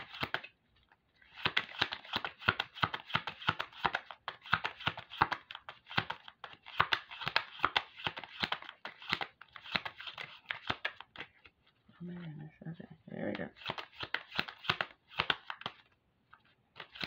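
Oracle cards are shuffled by hand in a long, close series of quick riffling, crinkly card flutters with a short pause near the end, and no voices.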